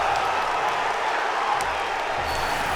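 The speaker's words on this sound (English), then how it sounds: "The crowd goes wild." A crowd at a Smash Ultimate tournament roars steadily with cheering and applause, a dense wash of noise that holds at full level throughout.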